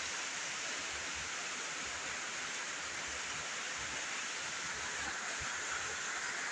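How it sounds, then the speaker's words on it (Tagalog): Heavy rain pours down with floodwater rushing, a dense, constant hiss and roar of water that stays steady throughout. "Dagay ulan."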